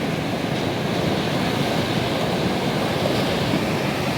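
Strong ocean waves whipped up by a typhoon roaring steadily and close by, a constant heavy rush of surf with no break.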